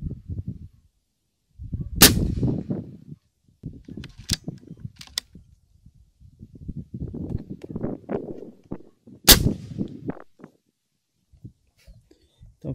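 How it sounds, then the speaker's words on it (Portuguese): A URKO Long Rifle M22 air rifle, tuned for higher muzzle velocity of about 253 m/s, fires two sharp, close cracks several seconds apart, amid low voices and handling noise. "Primeiro disparo."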